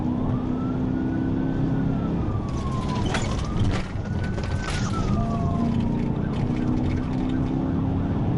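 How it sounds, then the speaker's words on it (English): A police car siren wails in long rising and falling sweeps over steady road and engine rumble, with a few sharp clicks partway through. "The officer hits the siren to give chase."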